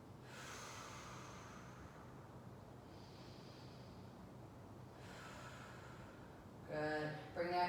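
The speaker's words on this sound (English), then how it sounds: "Two more breaths." Long, slow, deep breaths during a yoga session, a faint airy inhale and exhale repeated a few times close to the microphone in a quiet room, ending with a brief louder snort-like breath.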